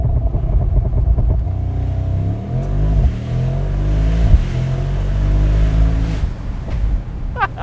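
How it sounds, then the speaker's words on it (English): A 2024 Mercedes SL63 AMG launches hard from a standstill, its engine roaring loud and close as revs climb, dip through quick gear shifts and climb again, with no one speaking. "Let's do launch control."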